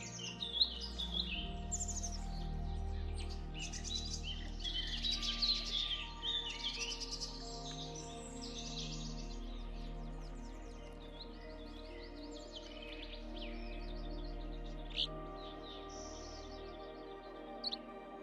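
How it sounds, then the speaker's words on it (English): Birds chirp and sing in bright, scattered calls at Lake Moraine, fairly close and clear, over a soft, continuous low background hum. "Birds, to permeate the most secret strings of the soul with their singing."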